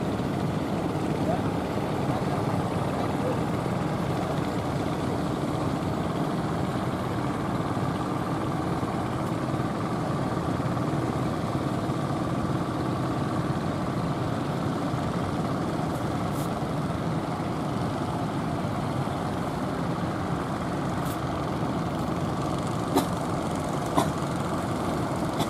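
A fishing boat engine runs steadily at sea off Puger, a continuous low rumbling drone with broadband noise, lasting throughout, with occasional faint clicks and a voice speaking briefly in the background.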